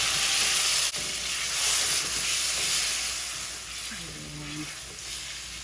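Steady hiss and gentle sizzle of tofu simmering in a pan after hot water, oyster sauce and pepper are stirred in, a constant close bubbling with a faint clink partway through.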